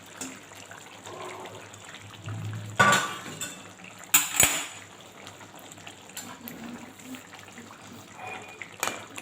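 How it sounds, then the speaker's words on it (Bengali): A spoon stirs two spoonfuls of coconut powder into warm water in a bowl, with soft sloshing, a few sharp metallic clinks against the bowl and a faint murmur of voices in the background. "বাটিতে অল্প গরম জল নিয়ে 2 চামচ কোকোনাট পাউডার গুলে রেখে দিলাম"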